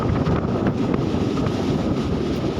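A steady low rumble and rushing noise of a moving train running through a village, with wind buffeting throughout and no voices.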